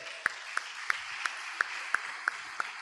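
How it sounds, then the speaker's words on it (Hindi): A church congregation claps in unison during a sermon, eight sharp claps evenly spaced at a steady brisk beat over a faint roomy background. "ताली बजाइए।"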